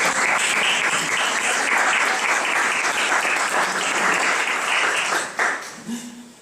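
Audience applause at a book presentation, a dense steady clapping from the crowd that holds loud for about five seconds, then thins out and fades as a voice begins.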